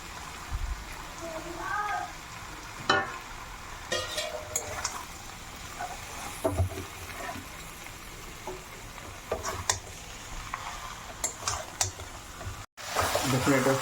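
Chopped tomatoes and green chillies frying in a pan for mutton tandoori handi, heard as a quiet, uneven sizzle with clinks and scrapes of a utensil, while a voice talks now and then.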